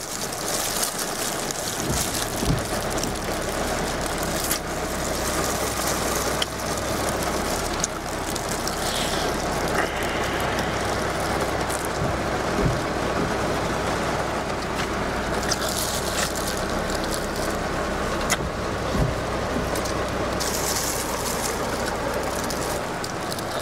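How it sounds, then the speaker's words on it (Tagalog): Steady rain falls continuously, producing a dense, even hiss with a low rumble underneath and occasional faint taps, constant in loudness from start to finish. "Pakinig niyo yung yung sound ng ulan."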